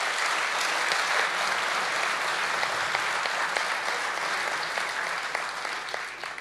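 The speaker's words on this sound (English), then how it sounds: "A round of applause," Sustained applause from the audience at the grand final of an international competition, dense and even clapping for over six seconds that tapers slightly at the end.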